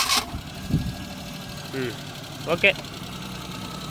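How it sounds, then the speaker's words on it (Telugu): A 2010 Maruti 800 car engine cranks with a sharp start, then settles into a steady low idle close by, with a voice speaking briefly over it. "ఇప్పుడు ఇంజన్ స్టార్ట్ చేసి చూపిస్తాను చూడండి"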